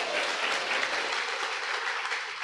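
A crowd gives sustained, even applause that fills the whole stretch at a moderate level, with no break and no voices standing out.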